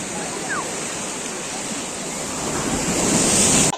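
Ocean waves at Tiruchendur beach rush and roar loudly and continuously nearby, with wind buffeting the microphone and the surge swelling toward the end.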